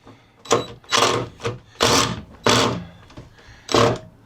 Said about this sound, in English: I went down and got a impact. I'm gonna take these screws out now.